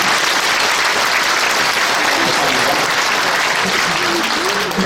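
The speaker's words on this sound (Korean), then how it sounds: "감사 위로와 박수를 보내드립니다" A church congregation gives loud, sustained applause to retiring ordained deacons and deaconesses at a retirement and ordination thanksgiving service, a thick continuous roar of clapping with a voice faintly threading beneath.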